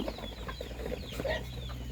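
A few soft clucks rise from chickens kept in a backyard garden pen, faint and brief over a low, steady background hum.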